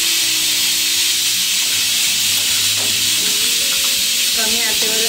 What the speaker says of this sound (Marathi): कमी आचेवर त्याला थोडंसं परतून घ्यायचं